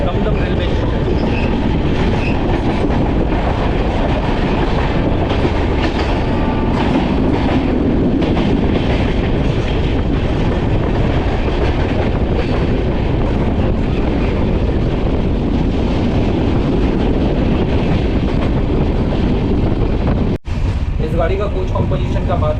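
The Amrit Bharat Express from Sealdah to Banaras passes through Dum Dum railway station without stopping. It makes a loud, close, continuous roar of wheels and carriages with steady clatter and wind buffeting the microphone.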